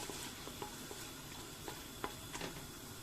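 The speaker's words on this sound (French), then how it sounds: "Laissez dorer les oignons." Onions frying in melted butter in a saucepan, a steady soft sizzle with occasional clicks and scrapes of stirring, close and moderately quiet.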